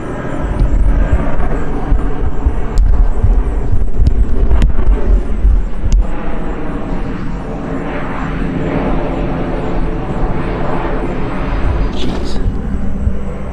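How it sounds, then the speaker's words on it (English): A fixed-wing airplane drones overhead above a home tomato garden, a steady broad rumble with wind, background noise and a few sharp knocks, while a person talks. "There's an airplane."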